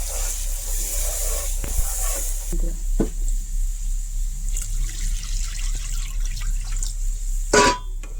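Water poured into a cooked-down curry gravy in a pan for a paneer pakora curry, a steady hissing trickle over a constant low hum, with a few faint clinks and a brief louder splash near the end.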